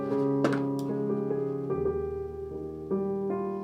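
A virtual piano is played with the lid lowered for a soft, muffled lo-fi tone, giving a few sustained chords that shift in sequence without talk.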